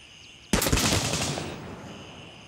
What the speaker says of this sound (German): Wenn ich jetzt hier schieße, einfach nur mal hier so in seine Nähe.